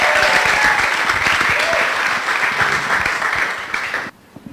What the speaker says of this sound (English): A big round of applause to Abdallah Absi.